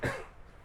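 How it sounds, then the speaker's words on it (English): A single man's cough, close and fairly loud, a short burst that quickly fades into quiet room tone. "I need to cough."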